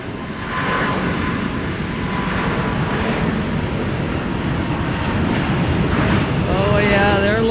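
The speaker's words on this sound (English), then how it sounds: "Here's our flight off to DTW with Delta's flagship A350-900." A Delta Airbus A350-900 jet takes off at Minneapolis–St. Paul Airport, a broad steady roar heard from a distance that swells gradually, with a brief voice near the end.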